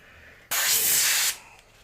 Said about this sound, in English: The nice thing about the Eclipse is the nozzle's so big it'll probably still spray.